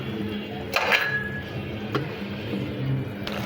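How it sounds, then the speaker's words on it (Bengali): A metal lid set onto a cooking pot of mango and taro-stolon curry, giving a short clattering knock with a brief metallic ring, followed by quieter bumps over a low kitchen background. "এখন ঢাকনাটা দিয়ে ঢেকে দেব"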